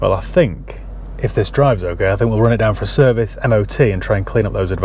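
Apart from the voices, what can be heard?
None of the usual background noises is heard.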